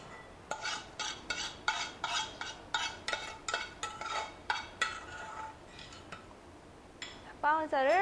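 Ground rice is tipped back into a bowl from a mortar, bringing a steady series of knocking, clinking scrapes of utensil against dish, and a voice briefly speaks near the end.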